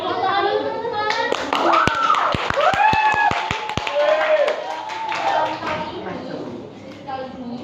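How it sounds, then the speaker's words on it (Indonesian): Junior high students clapping together in a classroom, a quick rhythmic burst of about ten sharp claps amid overlapping voices and chatter that continue around them. "Tepuk tangan dulu, teman-teman."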